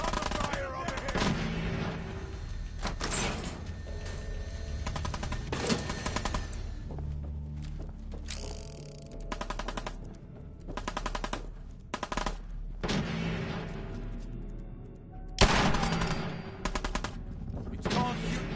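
Repeated bursts of automatic and single-shot gunfire in the video game Fallout 4, sharp rapid cracks mixed with heavier booms, with voices speaking between the volleys.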